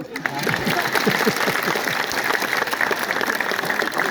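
An audience at a public speech in Latur breaks into dense, sustained clapping, loud and close, with a faint murmur of voices blended in.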